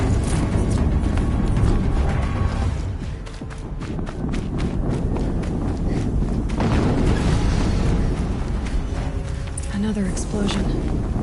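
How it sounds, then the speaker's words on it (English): Explosions rumble through loud, dense Horizon Zero Dawn gameplay, heavy booms mixed with running footsteps and constant action noise, with a voice speaking over it. "Another explosion."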